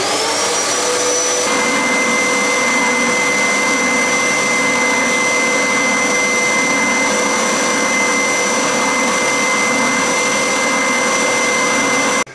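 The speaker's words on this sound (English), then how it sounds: "Couldn't see any dust at all once I'd started the shop vac." A shop vac dust extractor runs steadily with a loud, even whine and roar while hooked to a Triton oscillating spindle and belt sander, holding a constant tone close up until it cuts off at the end.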